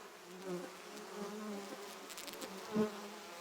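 Honeybees buzzing close by, a steady droning hum with wavering pitch and one louder swell as a bee passes near, with no talk.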